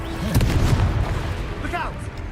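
Confringo fire spell in the Hogwarts Legacy video game bursts with a sharp explosive boom early on, followed by crackling debris and a rumbling tail under excited game voices.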